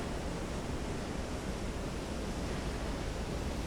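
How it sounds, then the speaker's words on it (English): A ship sinking into the sea in Silent Hunter 3 gives off a steady, loud wash of broadband rushing water, like heavy surf or churning waves, continuous and unbroken for the whole stretch with no voices. "It's slipping beneath the waves."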